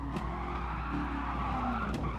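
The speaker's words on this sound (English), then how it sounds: "I really hit the brakes there." A car brakes hard and skids in the racing game Gran Turismo Sport, tires squealing in a sustained, loud screech over the engine's drone for about two seconds.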